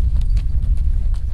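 A walking horse's hooves clip-clop close by on a desert trail, a steady run of dull, even thuds over a low rumble of wind or movement.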